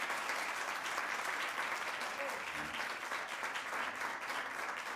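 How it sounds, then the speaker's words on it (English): Steady, dense applause from an audience honoring five trainees at a thesis competition event, filling the space evenly from start to finish with no break. "Everybody, please give them a round of applause."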